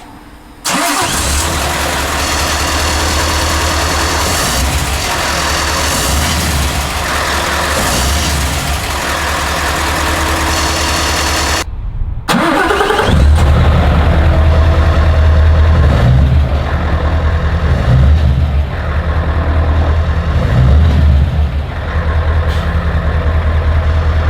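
A 2020 Scania S580 V8 truck engine idles loudly and steadily up close, a deep continuous rumble that cuts out briefly partway through and then returns even heavier for the rest of the stretch.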